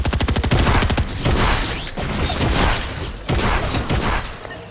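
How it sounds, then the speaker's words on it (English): Video game gunfire plays loud and close: a rapid automatic burst opens, then several further volleys and heavy shots follow in quick succession. "You don't just get to shoot at me."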